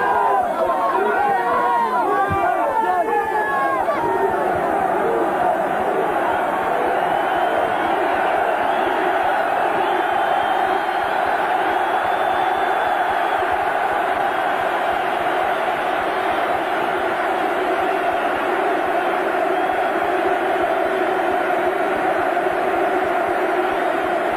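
A sellout stadium crowd of 37,000 Newcastle United fans at a football match, a dense continuous roar of chanting and singing filling the whole clip.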